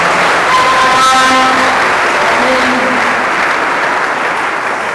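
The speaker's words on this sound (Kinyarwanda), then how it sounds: "Turagukomeye amashyi y'umunezero w'ubudashira." Loud, sustained applause from a large church congregation fills the whole stretch, with a few brief tonal notes cutting through the dense clapping.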